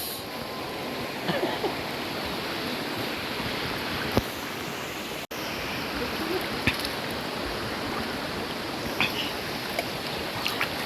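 Broad, steady rush of flowing water from a cool river where people swim near a bridge and cottages, continuous and fairly close with a few faint knocks and splashes, no talk.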